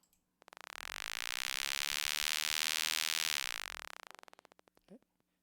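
A synthesizer voice named eye blipper, built as a SuperCollider SynthDef, buzzes as a dense pulsing tone that swells in, holds for about three seconds, then fades, followed by a quick faint blip.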